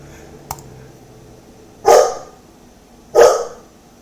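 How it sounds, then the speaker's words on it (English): A dog barks twice in the background, two loud, short barks about a second apart, preceded by a faint click, with little else around them. "Don't mind the dog barking in the background."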